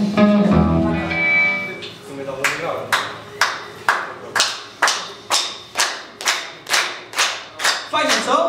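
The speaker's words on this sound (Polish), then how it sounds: "zaraz wam podam rytm i będziemy sobie klaskać" Concert audience clapping along in a steady rhythm, about a dozen evenly spaced loud claps following an opening stretch of music and talk, with voices mixed in at the start.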